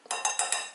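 A utensil mixes dry flour, baking powder and salt in a bowl, four quick soft scraping strokes in a steady rhythm, close and fairly quiet.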